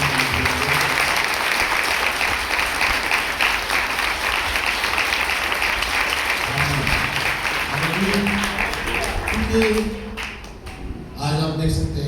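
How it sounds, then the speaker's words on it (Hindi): A church congregation applauds loudly in a dense, sustained wash of clapping that fills most of the stretch, thinning toward the end as a voice comes in over it. "तो मैं एक जोरदार ताली चाहूँगा।"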